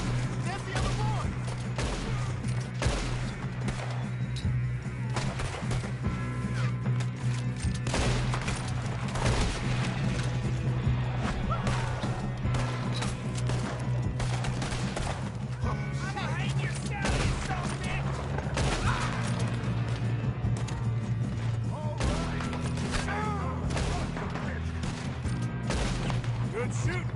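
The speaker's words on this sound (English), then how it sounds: "Good shooting, kid." Red Dead Redemption 2 shootout: steady rattling gunfire and volleys of shots fill a loud, sustained battle mix with music and game sounds underneath.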